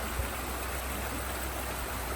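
Wolf Creek flows beside a campsite in a Georgia state park, a steady, even rush of running water that fills the short stretch without any voices.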